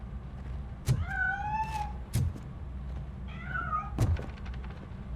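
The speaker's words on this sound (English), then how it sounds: "That cat must be hiding inside." A cat meowing in the video game RoboCop Rogue City: two drawn-out meows over a steady low background hum, mixed with three dull thumps, moderately loud and with no talking.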